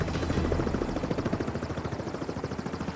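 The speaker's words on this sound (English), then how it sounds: "I kept seeing a helicopter going around and flying by" A helicopter flies overhead in the Alaskan bush, its rotor blades thudding in a fast, steady loud chop that fades slightly as it passes.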